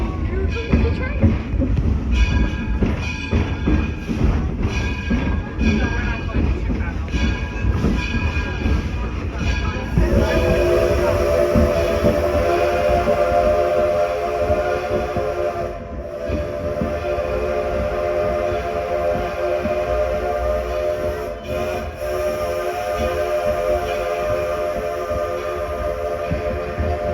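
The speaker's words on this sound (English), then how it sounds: "let's listen to the North American signal for Here Comes the Train" Steam whistle of the Edison No.1 4-4-0 locomotive sounding a long sustained tone that begins partway through, layered over rumbling train and crowd noise, with voices talking throughout.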